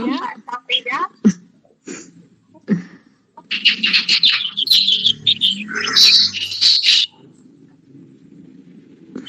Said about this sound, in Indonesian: Taunya saya mah lovebird, burung gereja Pak.